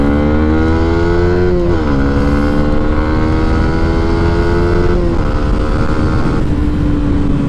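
A 2021 Yamaha Sniper 155 motorcycle engine revs loud and close during a test ride, its pitch rising and dipping through several gear changes with a continuous buzzing drone.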